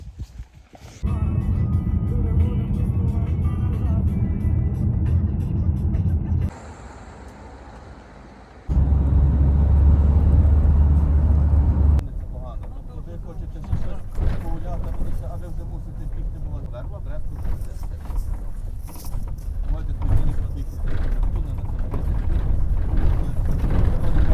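A car climbs a rough mountain road in the Carpathians toward Hoverla, its engine and road rumble steady with bumps and shifts. People talk over the noise inside the car.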